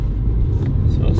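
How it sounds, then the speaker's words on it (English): A Mini car speeding up in green economy mode, a steady low engine rumble and road drone, loud and close throughout. "So I'll give you an example here of speeding up in green mode."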